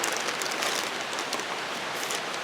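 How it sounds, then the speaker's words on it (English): Steady rain falls on a backyard with hanging cucumber baskets, a dense, constant hiss of drops that is close and fairly loud throughout with no pauses or talk. "The rain has picked up a little bit again."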